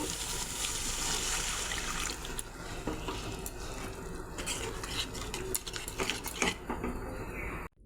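Water goes into fried spice masala in a pan for a fish curry, a close rushing splash and bubbling hiss with metal utensil clinks and stirring scrapes, then an abrupt stop; no one speaks.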